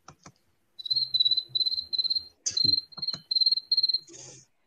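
A voice imitates cricket chirping with a run of high, trilling pulses in quick regular bursts, close and clear, with a few breathy clicks and mouth noises between.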